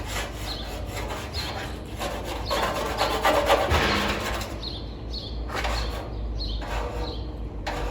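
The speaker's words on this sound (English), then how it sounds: "I guess I'll scrape this off and hit it again." A plastic scraper rasps residue off a surface while a 1963 Chevy dash is being dismantled, repeated close rubbing scrapes in irregular strokes, some longer and some short, with no speech.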